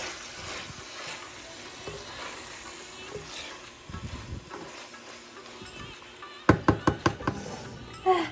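Potatoes frying in a pan give off a steady low sizzle, joined near the end by a quick run of sharp knocks and scrapes of a utensil against the pan.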